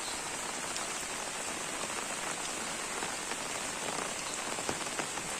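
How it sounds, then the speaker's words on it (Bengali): Steady rain falls on a rural Bengal village near Digha, a dense, even hiss with occasional louder drops close by, and no voices. "দেখো এখন বৃষ্টি হচ্ছে আকাশে মেঘও ডাকছে"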